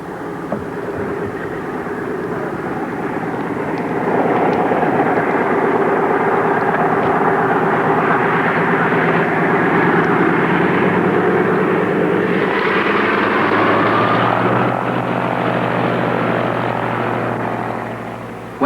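A propeller airplane engine drones loudly overhead in an early Ethiopian aviation setting, a sustained rumble that swells and shifts pitch as the aircraft passes, with no voices.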